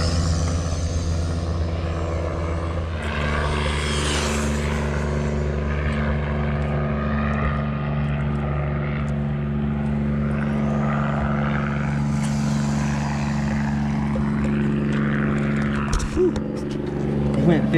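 A Wltoys 144001 1/14 scale RC car with a brushless upgrade makes a full-throttle speed run, its electric motor giving a loud, sustained whine that climbs in pitch, holds steady and swells again near the end, with a person talking over it.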